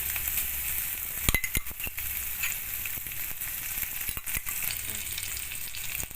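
Ginger paste, dried red chilies and cumin with salt frying in ghee for a banana flower ghonto, a steady close sizzle with spatula scrapes and a few clinks, no speech.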